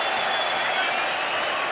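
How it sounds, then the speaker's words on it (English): A packed stadium crowd at the 1995 Rugby World Cup roars and applauds in a dense, continuous wash of cheering that holds steady throughout, with no individual voices standing out. "Nelson Mandela is cheering along with the whole of the stadium"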